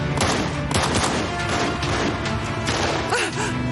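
Rapid bursts of gunfire during a car chase, loud and dense, with repeated shots over engine rumble and crashing impacts, and a voice shouting briefly underneath.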